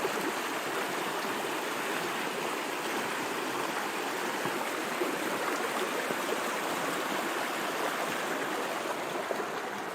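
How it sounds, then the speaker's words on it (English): Two mountain creeks merging at a rocky junction, a steady broadband rush of flowing water that stays constant and fairly loud throughout, with no voices. "So there's the one creek merging with the other."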